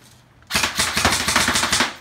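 An airsoft H&K M27 rifle with Avalon Gen 2 internals, shooting about 390 to 400 FPS, test fires a close, loud rapid burst of sharp snappy shots after a short quiet pause, with no talking.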